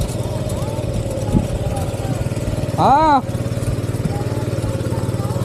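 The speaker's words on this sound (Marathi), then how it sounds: "तर इकडे माझ्या पाठी बघा ट्रॅक्टरनी चिखल करून येतोय" A mini tractor churns a muddy rice paddy into puddle for rice transplanting, its steady mid-pitched engine drone running throughout with a voice speaking over it and a brief rising-falling whine near the middle.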